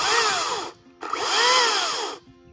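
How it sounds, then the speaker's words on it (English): A Makita DUC405 cordless electric chainsaw whirs up to a high-pitched whine twice, each burst lasting about a second, with a short pause between them. "even though this is an electric chainsaw, it still makes quite a bit of noise"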